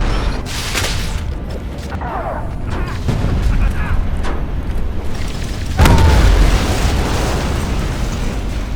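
A tank is blown up in the Spider-Man 3 video game, with heavy booming explosions and crackling blasts over about nine seconds, one especially loud boom partway through, all under steady background rumble.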